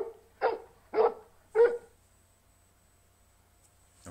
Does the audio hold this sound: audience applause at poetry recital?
no